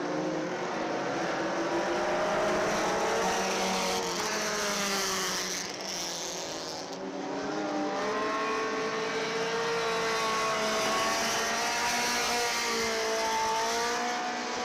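Dirt-track race cars at Dixieland Speedway roar continuously around the oval, engines droning and shifting pitch as they pass through turns one and two, loud and sustained without a break.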